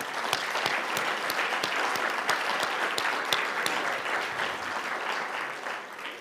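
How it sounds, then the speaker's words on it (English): A crowd at a regional State of the Region gathering at the Oregon Zoo gives the council a dense round of applause, with crisp individual claps popping out of the continuous clapping. "so a round of applause for them."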